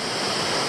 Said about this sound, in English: Well, I've made it to the amazing Montezuma Falls.